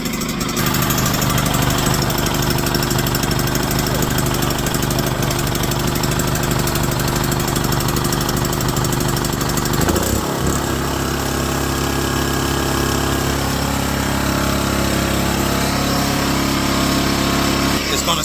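A home generator engine runs steadily and loudly throughout, with a brief change in tone around the midpoint, then settles into an even drone.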